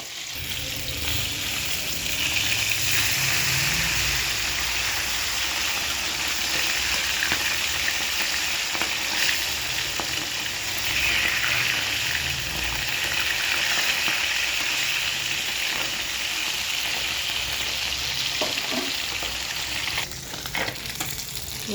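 Fish crackles and sizzles in hot oil, a dense, continuous hiss that holds steady throughout with no voices.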